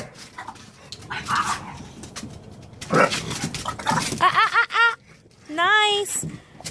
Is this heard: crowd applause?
no